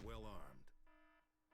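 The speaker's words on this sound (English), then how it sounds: "if you can hear the alarms going off," A beeping alarm sounds in the video game Crackdown, a short repeated electronic tone pattern heard faintly after a voice talks at the start.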